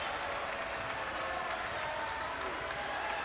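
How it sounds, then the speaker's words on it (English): Basketball fans in the end zone of a high school tournament gym clap their hands in a steady, broad wash of applause and crowd noise, continuous and fairly even throughout. "Their fans down in the east end zone clapping their hands."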